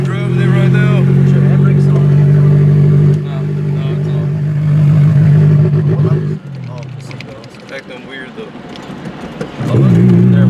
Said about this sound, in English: Sounds really loud right now, and I'm not sure if I want to daily with open downpipe